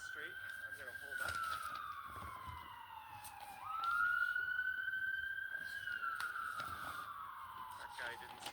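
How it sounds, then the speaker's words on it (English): An ambulance siren on a North York street wails in long rising and falling sweeps, close and loud, with a pitch shift midway as the vehicle turns past. "There's an ambulance turning here."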